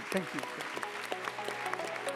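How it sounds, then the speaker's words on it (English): Conference audience applauding the panelists at a forum session, a steady wash of clapping with voices talking over it. "Can we just please give some applause to our excellent panelists, please?"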